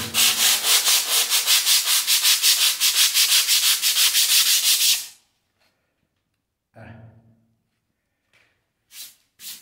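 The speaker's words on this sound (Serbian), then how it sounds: "pogledajte sada šmirglanje" Rapid rhythmic rasping of hand sanding with the fingers, steady back-and-forth strokes for about five seconds, then stopping, followed by a few faint scrapes.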